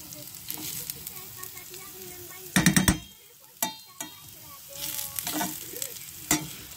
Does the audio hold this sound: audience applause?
no